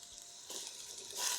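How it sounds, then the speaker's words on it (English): Onions and garlic sauté in a pan for baked beans with a steady, quiet sizzle. The frying hiss swells slightly toward the end, and there is no talk. "we're going to saute the onions until they're soft"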